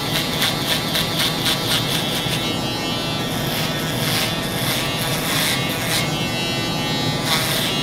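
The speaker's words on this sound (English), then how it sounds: "adjustable clipper is the Wahl Magic Clip" A Wahl Magic Clip adjustable-blade hair clipper runs during a barber's high drop fade haircut, giving a steady close electric buzz with rhythmic surges and scraping pulses as the blade moves through hair.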